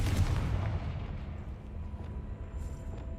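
A Confringo blasting spell explodes in Hogwarts Legacy with a deep, booming burst at the start that rumbles and fades over a few seconds, heard alone.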